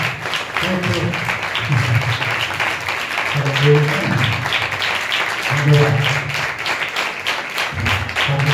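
A congregation at a fasting prayer meeting claps hands steadily and rhythmically all the way through, mixed with singing voices and music.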